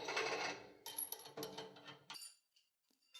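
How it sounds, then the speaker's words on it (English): Azimuth adjuster on a Marconi antenna tightened with a run of close metallic clicks and ratcheting rattles that stop abruptly, leaving near silence and a couple of faint taps. "Reinstall the azimuth adjuster and tighten it."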